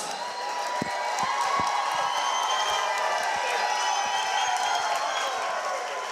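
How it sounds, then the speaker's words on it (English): A boxing fight-night crowd cheers and applauds after a heavyweight main event ends by TKO, a steady roar of voices, whoops and clapping filling the hall with sharp individual claps standing out near the start. "Round of applause for your main event."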